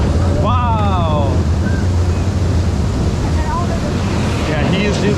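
Water sprays over riders on the Gaz Express coaster at Parc Bagatelle, a loud steady rush mixed with wind buffeting, while a rider briefly calls out over the noise.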